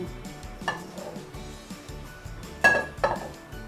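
Metal utensils clink against a frying pan a few times while dried chilies are fried in a little oil, with two sharper clatters near the end over a quiet kitchen background.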